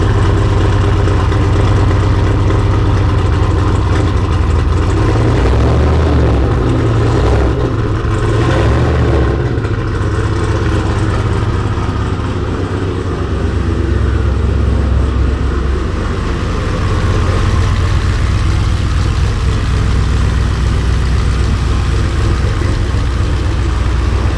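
A 1200-horsepower HSV Maloo idles heavily indoors, a loud, steady low rumble that persists throughout with a slight swell in the middle, deep enough to shake the floor above.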